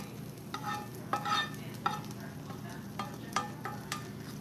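Tomatoes and onions sizzle softly in a pan for a veggie omelette, a quiet steady frying hiss broken by several sharp scraping and stirring clicks from a utensil, with no one speaking.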